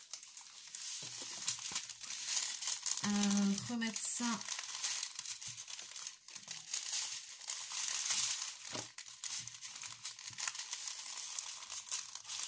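Crinkly plastic rustling and crumpling as diamond painting supplies are packed into a box, with a brief burst of louder crackling early on, continuing under someone talking quietly in French.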